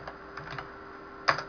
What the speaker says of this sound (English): I'm just typing it for you.